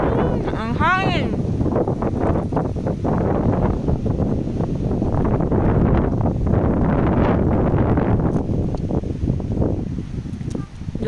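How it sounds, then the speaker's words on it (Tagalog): Strong wind buffeting the microphone on a scenic hillside in Lamut, La Trinidad, a loud, steady rumble lasting throughout, with brief voices near the start. "Ang hangin."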